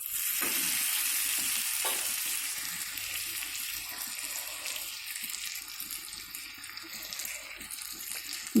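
Chicken sticks fry on a tawa over a low gas flame with a continuous soft sizzle and hiss, steady throughout, and one brief clatter at the end.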